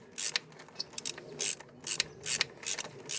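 Ratchet wrench loosening a flange nut on a Snapper mower's shifter link, rapid bursts of close, crisp clicking with short pauses between strokes, no voices.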